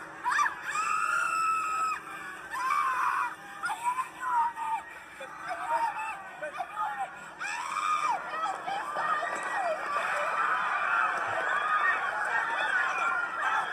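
Frantic screaming and shouting from a panicked crowd during a chaotic emergency, with a trapped bartender nearby; loud, continuous high-pitched cries overlap with agitated voices throughout.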